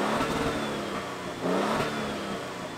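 A 2022 Toyota Tundra Capstone truck engine starts and roars loudly and steadily, rising in a rev around the middle before settling back to a rumbling idle.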